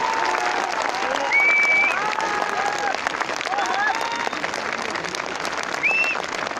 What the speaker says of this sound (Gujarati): જોરદાર તારીઓ પડવી જોઈએ